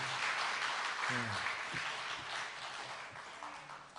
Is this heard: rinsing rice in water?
no